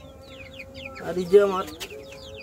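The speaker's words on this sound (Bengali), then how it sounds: "3টা মোরগ আর 2টা মুরগি হয়েছে।" Farm chickens and roosters clucking in a backyard flock of three roosters and two hens, a short burst of clucks and a squawk near the middle over a faint background, with someone speaking.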